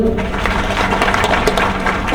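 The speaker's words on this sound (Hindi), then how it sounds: "आपका फराज साहब के लिए तालियां भाई" A classroom audience at an IT lecture claps for an instructor, a short burst of dense, fairly loud applause from a group of people.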